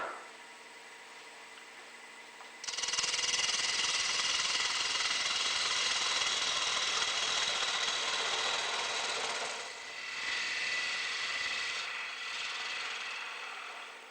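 A wood bowl blank spins on a lathe while a bowl gouge trues it to a cylinder. After a quiet motor hum, a loud, steady, rasping cut starts and runs continuously, easing briefly twice near the end.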